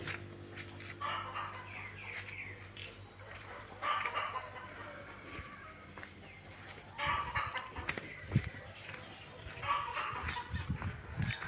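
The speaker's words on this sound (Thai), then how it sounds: "มาดูไก่เช้าเย็นเช้าเย็นเนาะ" Chickens cluck on a farm in repeated short bursts with pauses between, set against a quiet, low background hum.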